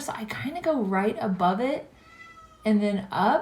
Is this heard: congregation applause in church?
no